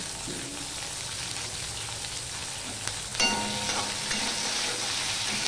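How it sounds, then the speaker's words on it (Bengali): Ginger, green chillies, tomato and salt are sautéed in a pan for a spiny gourd dish, producing a constant close sizzle with stirring scrapes and a louder burst of frying partway through. "এবার এটা আমি মিনিট খানিক আমি কষিয়ে নেব।"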